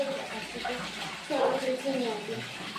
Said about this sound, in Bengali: জামা কাপড়গুলো কেচে নিই, স্নান করবো